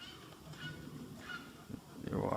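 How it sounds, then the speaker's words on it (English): Wood storks calling near a trail at a crowded breeding site, a few low honking croaks at moderate distance, rising into a louder, denser burst of calls at the end. "Yeah, they're wood storks."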